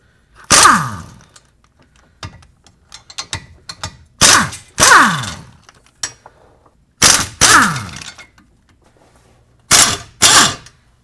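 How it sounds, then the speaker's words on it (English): Ratchet or wrench working loose the four 13mm hub bolts on a 2002-06 MINI Cooper, with sharp loud cracks in paired bursts, separated by lighter clicking and rattling, close up and without speech. "next I'll remove the four 13mm bolts holding the hub on"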